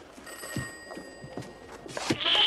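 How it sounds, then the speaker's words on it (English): A telephone bell rings in repeated bursts in a household setting, moderately loud and clear with nothing else over it. "Oh, dear, the phone again."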